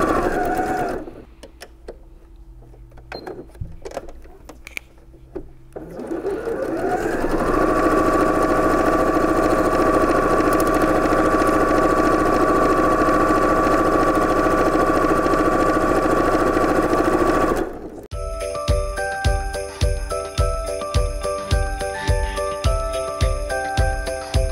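A sewing machine stitches fabric pieces for an apron, first in short halting bursts, then a long steady whirring run, ending with rapid rhythmic needle clatter, loud and close with no talking.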